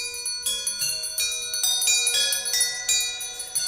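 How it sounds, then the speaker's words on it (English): Many house bells ring together as a radio drama sound effect, a dense, bright clangor with repeated strikes that pulse steadily and loudly, sustained with no voices. "soon it rang out loudly, and then so did every bell in the house"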